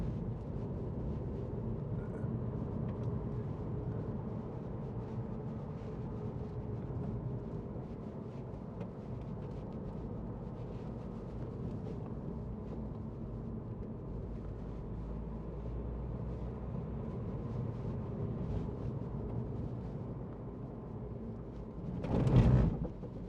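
2014 MINI Countryman 1.6 Cooper D ALL4 diesel driving on the road, a steady low engine and road drone heard from inside the cabin, unbroken for a long stretch and ending in a brief louder thump.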